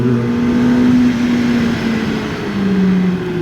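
QJ Motor SRK 421 RR four-cylinder motorcycle revving on a ride, a loud, close, steady engine whine that holds pitch and then dips slightly as revs ease, with wind rush behind it.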